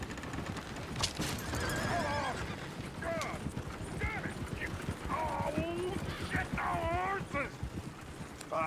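Horses in the Western game Red Dead neigh and whinny repeatedly over clip-clopping hooves, several high squealing calls spread across the clip, with voices talking underneath.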